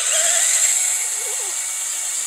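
A power drill bores through metal during a G-body rear disc brake conversion using S10 Blazer parts, a continuous high-pitched whine held steadily close by, with no talk.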